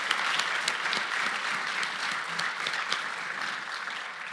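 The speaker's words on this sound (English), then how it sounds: "with one round of applause, a warm round" An audience gives warm applause for the panelists at a medical education conference on the history of African medical schools. The clapping is dense and sustained, fairly loud and even, with scattered sharper claps standing out, and no speech over it.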